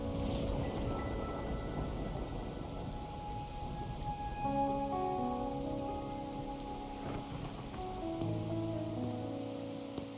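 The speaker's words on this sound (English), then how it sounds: "Or are you simply passing the time until the rain ends?" Steady rain falls in a video game, a continuous soft hiss across the whole stretch, with background game music tones playing quietly beneath it and no speech.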